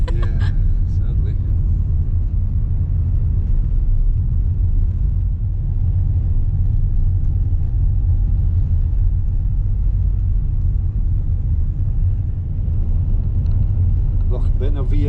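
A small truck drives along a rough track beside Loch Benavian in Glen Affric in winter, a loud continuous low rumble of engine and tyres, with people talking over it at the start and end.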